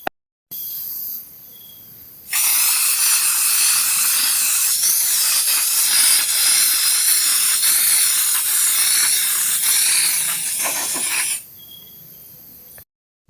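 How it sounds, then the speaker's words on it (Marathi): Fixative aerosol sprayed onto a painting in progress of Chhatrapati Shivaji Maharaj: a short hiss, a pause, then one long steady spray lasting about nine seconds, close and fairly loud, with no talk. "चला आता फिक्सेटिव्ह मारून घेऊयात"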